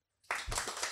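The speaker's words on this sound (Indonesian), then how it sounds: "Sekali lagi tepuk tangan" Audience clapping at a live comedy show, starting abruptly and holding steady as a burst of applause.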